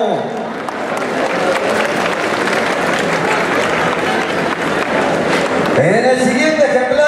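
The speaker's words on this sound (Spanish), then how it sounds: "fuerte el aplauso, hombre" An audience at a cattle ranch event gives a steady wash of clapping and crowd noise that holds for several seconds, and a voice rises over it near the end.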